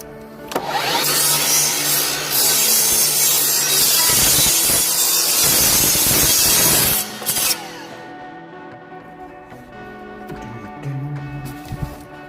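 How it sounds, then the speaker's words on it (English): A hand saw cuts through a wooden board, its rasping strokes loud and continuous for about seven seconds before stopping, after which a quieter, sparse workshop background remains. "Sure you're cutting on the correct side of your mark, accounting for the thickness of your blade."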